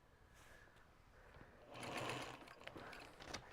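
A sewing machine stitches through fabric and vinyl on a quilt-as-you-go project bag, its motor whirring steadily nearby and swelling louder midway as the needle runs faster.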